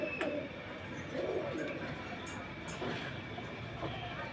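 Pigeons offered for sale in Beldanga coo softly in a few low, rolling phrases over a busy ambient hum, with faint distant noises and no clear speech.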